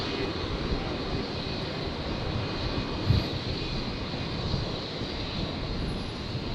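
An Alliance Airlines jet flying as Virgin 1717 at Brisbane Airport, bound for Gladstone, gives a steady broadband engine roar at moderate distance, constant throughout with a brief thump partway.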